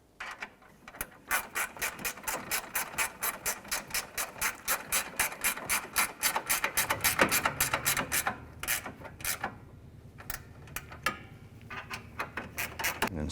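A ratchet snugs down the upper radiator support bolts on a 2012-2017 Toyota Camry, giving long runs of rapid, steady clicking up close, briefly pausing before quicker bursts resume.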